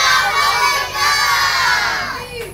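A crowd of young children, five and six year olds at a radiothon fundraiser, yell together in unison, loud and sustained for a couple of seconds with a cheering, shouting texture before tapering off.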